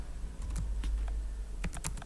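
Typing a website title on a computer keyboard, a close run of distinct irregular key clicks over a low steady hum.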